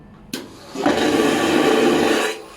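A vacuum toilet on a ship flushing: a sharp click, then a loud rushing whoosh of suction and water that holds steady for about a second and a half before cutting off abruptly. Close and clear, with no speech.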